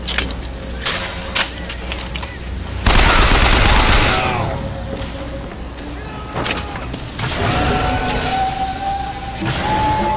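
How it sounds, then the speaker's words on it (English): Rockets burst and roar amid heavy gunfire in the shooter game Bioshock Infinite, a loud sustained blast near the middle over a continuous crackling din of combat. "Whoa, rockets."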